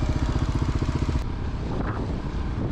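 A Kawasaki KLR 250 off-road motorcycle being ridden, its buzzing single-cylinder engine note clear for about a second before giving way to rushing wind noise.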